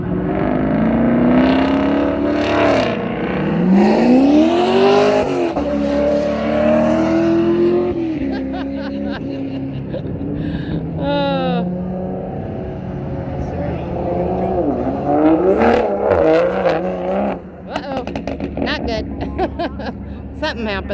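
A Camaro and other hot rods rev and roar at a small outdoor car show, engines climbing and falling in repeated loud sweeps with a brief tire squeal, while people talk throughout close by.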